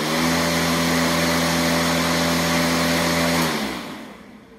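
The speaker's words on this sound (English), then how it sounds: "you'll see it's a fairly quiet lawnmower." A DeWalt cordless lawn mower runs with a steady, fairly quiet motor hum and droning tone without pause, then winds down and fades out near the end.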